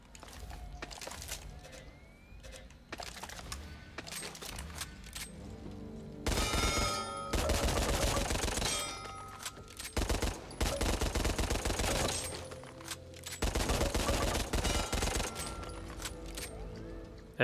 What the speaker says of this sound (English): Then you have the Beretta M9 Burst and the Beretta M9.